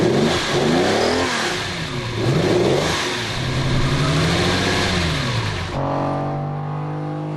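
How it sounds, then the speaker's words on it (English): A Lamborghini Countach's 4-litre V12 engine revs hard, its pitch rising and falling in repeated sweeps before settling into a steady, loud drone close by. "The V12 4-litre engine steals the show."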